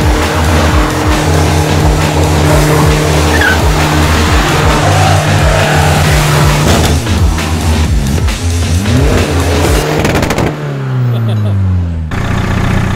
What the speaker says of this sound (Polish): Trzeba palić gumę, patrzcie.